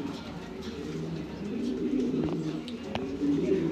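Pigeons coo softly and repeatedly at close range, low throaty calls overlapping against a quiet background.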